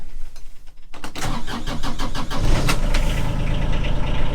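A small Corvus Terrain UTV engine, inside a soundproofed cab, cranks briefly, catches and starts, then settles into a loud steady idle with a rattling, knocking tone, very close.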